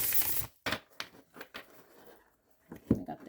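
Tarot cards are riffled and shuffled in several short, quiet bursts with brief pauses between, crisp and close-up.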